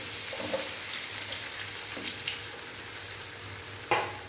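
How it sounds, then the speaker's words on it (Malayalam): Potato pieces frying in hot coconut oil give a steady broadband sizzle with faint crackles, plus a sharp clink near the end, heard alone and close. "പൊട്ടറ്റോ എണ്ണയിലിട്ട് പെട്ടെന്ന് തന്നെ എടുക്കാവുന്നതാണ്."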